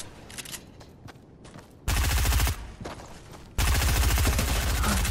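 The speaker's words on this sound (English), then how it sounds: "none of my bullets are hitting this guy at all" Gunfire in the Fortnite video game comes as rapid automatic bursts, loud and close, with a short burst first and then a longer sustained stretch of fire, under a few faint scattered taps.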